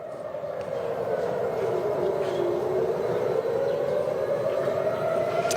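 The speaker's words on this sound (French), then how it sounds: "les deuxième ou troisième sirènes depuis ce matin ici à Tel Aviv" An air raid siren wails over Tel Aviv, a loud, sustained tone that slowly dips and rises again, with faint background noise beneath.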